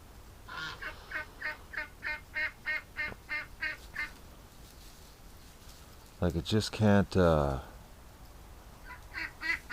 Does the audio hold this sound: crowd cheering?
no